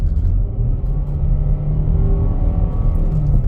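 A 2021 Nissan Rogue SL AWD in eco mode accelerates with its engine and CVT, heard from inside as a loud, steady low rumble and whir with no talk.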